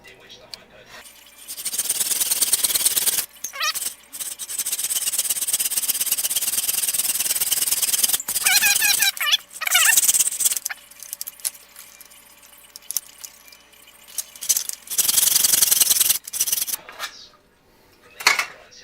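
A hacksaw cuts through a projector lamp cover in long rasping runs of steady strokes, loud and close, broken by short pauses, metallic clinks and a little talk.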